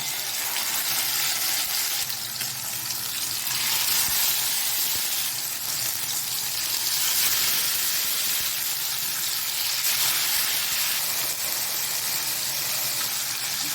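Vaval fish pieces frying in hot oil, a continuous broad sizzle and hiss that swells and eases in waves, close and fairly loud with no talking.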